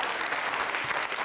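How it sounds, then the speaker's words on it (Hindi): Audience applause at a university quiz show on consumer protection, a dense steady clatter of many hands clapping close and loud for the full moment, with no talk over it. "तालियां जोरों से बजाइए इनके लिए, आप जोरदार तालियां जोरों से बजनी चाहिए।"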